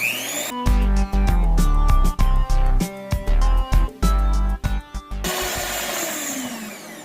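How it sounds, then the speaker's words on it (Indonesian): Electric hand mixer running at low speed through cake batter with margarine for a baked cheese layer sponge cake, a steady whirring drone broken by frequent brief stops and restarts, then cutting out to quiet room noise near the end. "Ini akan saya aduk dengan speed rendah saja."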